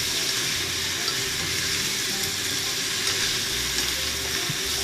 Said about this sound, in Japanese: そして軽く炒めますね。